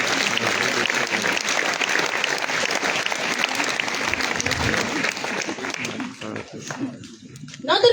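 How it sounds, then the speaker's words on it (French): Sustained applause from a church congregation at an evening praise service honoring the elders, a dense, steady wash of many hands clapping close by that thins out and breaks apart near the end, with a voice or two mixed in. "Est-ce qu'on peut acclamer pour les aînés?"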